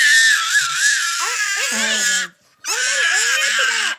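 A young child screams in long, loud, high-pitched wails indoors, with a short break before another sustained scream and brief crying inflections underneath.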